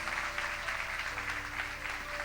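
A church congregation applauds during a sermon with steady, sustained clapping from many hands that fills the room evenly from start to finish.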